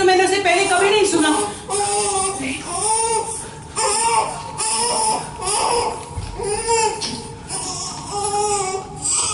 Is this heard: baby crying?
yes